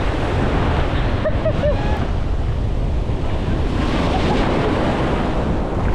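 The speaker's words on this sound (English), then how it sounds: "Sunset dip with a lot of waves." Sea waves break and wash continuously on the shore at Swanage at sunset. Heavy wind buffets the microphone and blurs the loud, steady roar of the surf.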